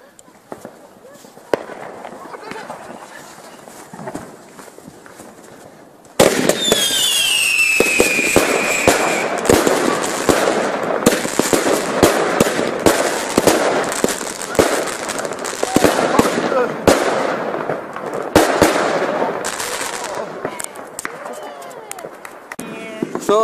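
New Year's Eve fireworks in Germany, including a 60-shot Sevilla battery, erupt suddenly after a quiet start and keep cracking in rapid, loud bursts with whistling streaks, while voices talk in the background.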